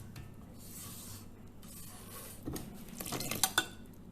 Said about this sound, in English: Scrape the sides.